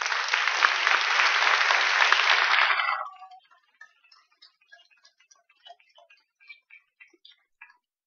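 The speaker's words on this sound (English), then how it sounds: "so let's give them a round of applause." An audience at a Cornel West lecture on justice bursts into a strong round of applause for about three seconds, then it stops abruptly and leaves only scattered faint ticks and taps.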